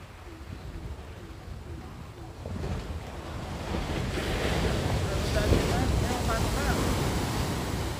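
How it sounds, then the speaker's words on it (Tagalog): Big ocean waves surge and crash at a beach resort in Phuket, Thailand, a continuous roar of surf with heavy wind buffeting the microphone, growing louder midway, while voices talk faintly underneath. "Ang lalaki ng alon ka dito."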